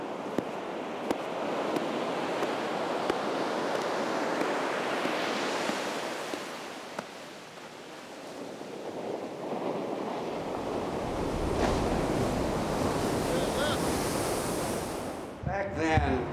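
Ocean waves break and wash continuously onto a beach, a broad roaring surf with gentle swells in intensity and some wind buffeting, ending with a brief bump of handling noise.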